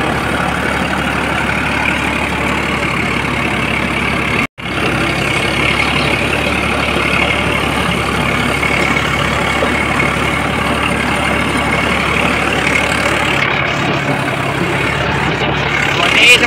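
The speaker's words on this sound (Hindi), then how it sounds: "काफी बढ़िया चल रहा है भाई ट्रैक्टर" A Farmtrac 60 tractor drags a 10 ft rotavator through a field, its diesel engine roaring loud and constant under full load, with one brief dropout early on before the heavy drone resumes unchanged.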